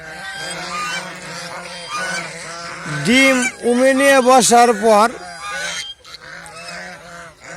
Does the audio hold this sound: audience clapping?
no